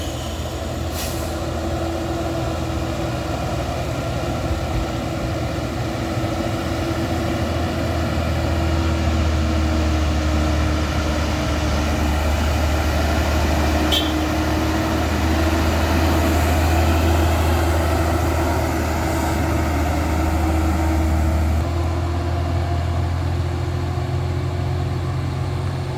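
A Colt diesel truck climbs a steep hill, its engine droning and revving loudly and continuously for the whole span, with a brief hiss partway through.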